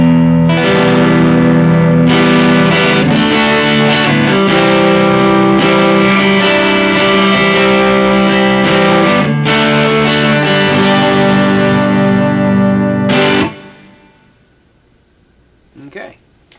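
Overdriven electric guitar through a BOSS GT-1000 CORE with light reverb rings out in loud, sustained distorted chords and riffs, then stops and leaves a short quiet tail with a faint noise near the end.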